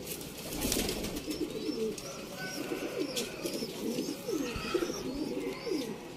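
Rampuri pigeons cooing in a loft in Sialkot, a steady chorus of soft, rolling coos from several birds close by, with faint higher chirps over a low background hum.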